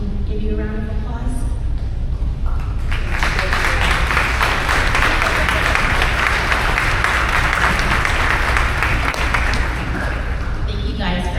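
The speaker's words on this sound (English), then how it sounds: "will you please stand so that we can give you a round of applause?" Audience at an annual support luncheon breaking into loud, sustained applause that swells after a brief spoken line and fills the room for several seconds before tapering.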